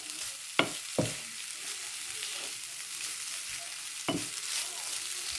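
Vegetables sautéing in a pan with a quiet, steady frying hiss, broken by a few sharp knocks and scrapes of a spoon stirring against the pan.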